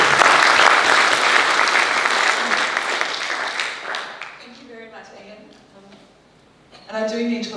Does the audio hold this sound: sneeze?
no